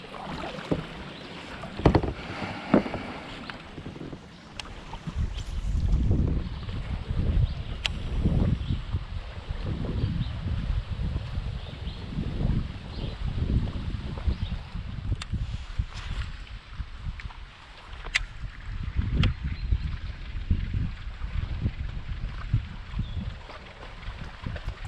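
Wind blows steadily in a video game, a rough, gusting rumble that swells and eases. Occasional sharp clicks and knocks sound over it.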